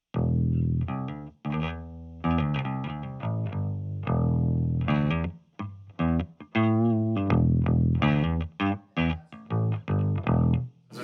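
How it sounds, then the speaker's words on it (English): Clean electric guitar played through a Fender amp, a run of close, ringing plucked notes and chords in a loose rhythm with short gaps between phrases. "this is kind of the clean guitar tone that I'm getting through my Fender"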